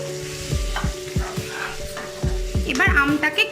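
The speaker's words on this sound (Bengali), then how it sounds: "লবণ দিয়ে আবারও মিক্স করে নিচ্ছি" Raw mango chutney with salt frying in a pan is stirred, with steady sizzling under rhythmic thumping scrapes of a spoon, close up, with a low hum underneath and a brief squeak near the end.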